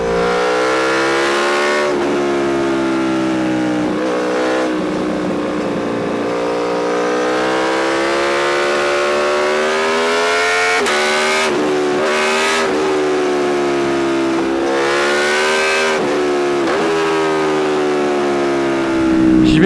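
An Aprilia Tuono V4 1100 Factory motorcycle accelerates hard in second gear, its V4 engine rising in pitch through repeated loud revving pulls with brief gear-change dips, close and continuous, strongly vibrating.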